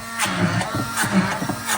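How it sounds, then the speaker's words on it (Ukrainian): An immersion blender whirs through cheesecake batter in a home kitchen, a close, uneven mechanical buzz that pulses and rattles in short bursts as the blade moves through the thick mixture. "І всю цю масу ми е, перебиваємо погружним блендером."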